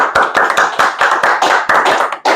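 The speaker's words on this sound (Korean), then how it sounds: "큰 박수로 맞이해 주시기 바랍니다" An audience claps to welcome a speaker at a discussion forum, with loud, close, rapid clapping that carries on steadily throughout.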